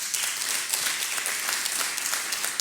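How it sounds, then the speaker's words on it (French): Audience applause for three new members being welcomed at a formal ceremony with award presentations, a dense, steady round of many hands clapping at an even level throughout, without talk. "on donne un applaudissement à nos 3 nouveaux membres"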